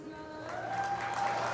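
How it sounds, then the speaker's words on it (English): A crowd at a four-in-hand carriage driving dressage test at the FEI Driving World Championship breaks into cheering and applause that swells steadily from a quiet start, heard at a distance under an announcer's voice. "and a big cheer"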